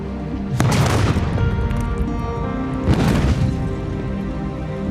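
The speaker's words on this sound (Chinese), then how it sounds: "爆炸瞬间，大楼应声倒塌。" Two deep, heavy explosion booms from a building collapsing in Gaza, a couple of seconds apart, each a loud rumbling blast that rolls on and fades slowly.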